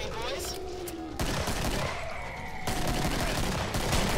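Rapid gunfire from the video game Killing Floor, shots crackling in dense bursts throughout, loud and close, with a voice talking over parts of it.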